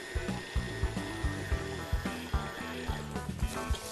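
A stand mixer with a paddle churns frangipane tart dough, its motor humming steadily under a rhythmic, clunking thump roughly every half second, close and moderately loud, with no talk.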